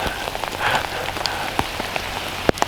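Hail falling in the High Sierra backcountry near Ebbetts Pass, a steady pattering hiss on surfaces with scattered sharper ticks and one louder clack, close by and without voices.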